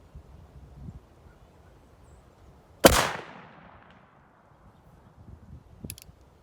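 A single sharp shot rings out from a Traditions Trapper .50 caliber percussion pistol outdoors, a loud crack with a brief decaying echo, set against quiet background rustle and a faint click near the end.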